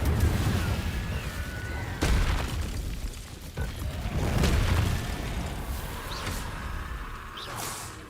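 Whooshing fire spell bursts from the Incendio charm in Hogwarts Legacy gameplay, several sharp blasts with booming low rumble and crackle over a continuous background, moderately loud.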